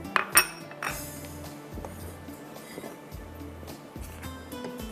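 A spoon clinks and scrapes around a bowl as a pineapple, dry fruit and coconut dessert mixture is stirred, sharp knocks at the start followed by repeated soft scraping strokes up close.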